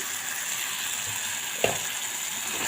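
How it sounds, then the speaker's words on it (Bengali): Spice paste with sugar fries steadily in oil in a pan, a constant close sizzle with one brief clink of a utensil partway through. "মশলাটা ভালোভাবে ভাজা হয়ে গেছে পুরো তেলটা বেরিয়ে এসেছে"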